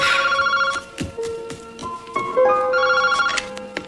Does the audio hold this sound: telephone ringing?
yes